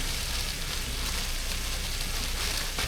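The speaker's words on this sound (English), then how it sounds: "So now we're gonna fry our tortillas over here." Small street-taco-size tortillas fry in hot oil in a pan for taco day, giving a steady, dense crackling sizzle that holds at an even level throughout with no talk.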